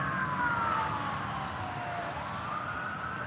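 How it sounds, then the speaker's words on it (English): Police car sirens wail past at night in San Jose, a steady sweeping tone that glides downward as the vehicles move away, heard over constant traffic rumble with no talking. "I should probably go follow the sirens."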